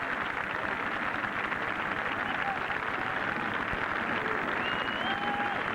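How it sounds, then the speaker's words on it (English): Golf gallery applause for Lee Trevino at a tournament, a steady, dense wash of clapping sustained throughout, with a commentator's voice faintly beneath it. "Applause, though, for Lee Trevino, another master of the game."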